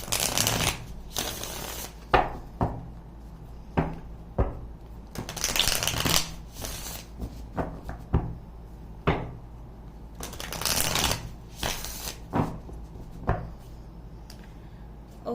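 Tarot cards being shuffled by hand in repeated bursts of riffling and slapping, close and fairly loud, separated by brief pauses, with no speech over them.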